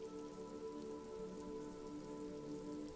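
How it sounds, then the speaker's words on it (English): Rain patters steadily off Eternite-covered roofs along an urban coastline in the video game Disco Elysium, a constant soft wash of dripping under a faint droning tone, with no voices. "Urban coastline, rain dripping off Eternite-covered roofs"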